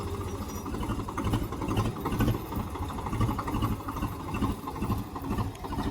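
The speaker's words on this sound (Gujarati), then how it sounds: "જોઈ લ્યો હવે ટ્રેક્ટર ભરવાનું છે" A tractor engine runs steadily at low revs while being positioned to load freshly cut sugarcane, a continuous mid-level rumble with no voices.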